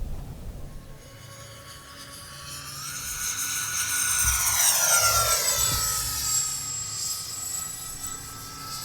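An E-flite F-14 Tomcat RC model jet with twin 40mm EDF units comes in for a belly landing, its rising ducted-fan whine sweeping past loudly and then easing off with no talk over it.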